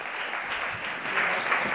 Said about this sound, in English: please join me in giving a huge round of applause to Chris Kerwin.